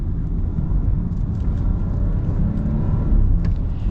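An Audi A8L with an 8-speed automatic accelerating, heard from inside the cabin as a steady low engine and road rumble that builds slightly toward the end, with no talking over it.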